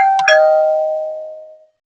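A Tapo D235 video doorbell chime rings once after its button is pressed, a clear two-tone ding-dong whose bright tones ring out and fade away over about a second and a half in a quiet room.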